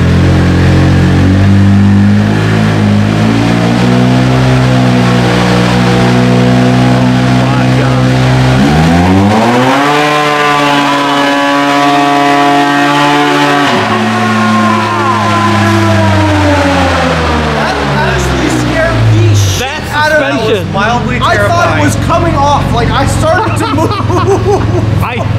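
Speed UTV engine screaming through a dyno pull, a loud sustained roar that climbs steadily in pitch, holds high, then drops off and winds down near the end.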